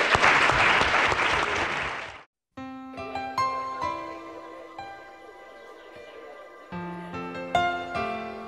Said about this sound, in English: So a little round of applause for these guys and for yourselves.